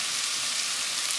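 Garlic and seasoning sizzle in a pot for broccoli cheddar soup, a steady close hissing crackle of frying without pauses or voices.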